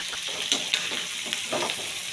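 Paprika spluttering in hot oil as it is stirred in a pan, a soft continuous sizzle broken by several sharp little pops spread unevenly across the moment.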